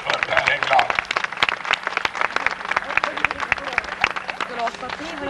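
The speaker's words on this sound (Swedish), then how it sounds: "Applåder för Per Häggblad." An audience claps at a car show in a Norrköping folk park as a prize goes to the owner of a Chevelle. The applause is close, uneven and crackly, with individual sharp claps and some crowd murmur underneath.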